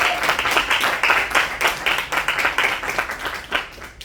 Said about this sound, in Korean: 우리 다시 한번 축하의 박수.